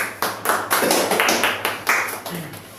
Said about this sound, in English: Mr. Ritik Sharma, please clap for him.